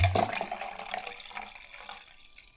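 Tap water running into a Milo chocolate mixture for ice candy, a brief splashy pour that fades quickly into quiet trickling, faint and close.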